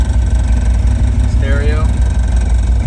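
A 1969 Ford Bronco engine starts and settles into a steady, low idle rumble, with a voice talking over it.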